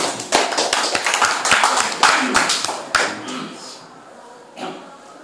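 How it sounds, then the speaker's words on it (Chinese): An audience at a mountain-lodge spiritual lecture in Xitou claps to welcome a chairman to the stage; the claps are loud and sparse, with separate sharp hand slaps that thin out and fade over a few seconds. "掌声欢迎"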